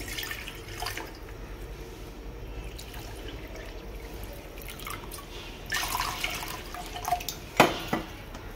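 Two cups of water trickling and dripping into a pot, a soft steady pour with a few louder splashes near the end, no talking.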